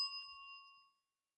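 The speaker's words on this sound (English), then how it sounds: "I'm going to hit the bell, actually." A bell struck once rings out with a clear, bright ding that decays smoothly over about a second and then falls silent, heard alone.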